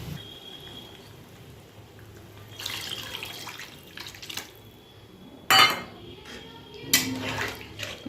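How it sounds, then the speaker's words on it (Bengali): Water is poured into a cooking pot while making dhokar dalna, a lentil-cake curry. A soft, splashy pour is followed by a few sharp clinks of utensils on metal in a quiet kitchen. "এবার জল দিয়ে দেব"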